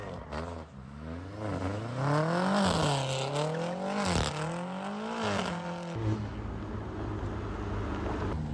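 Cars driving fast on Los Angeles roads, engines revving and rising and falling in pitch as they accelerate and pass, loud and continuous as if from played footage, with a voice briefly over it.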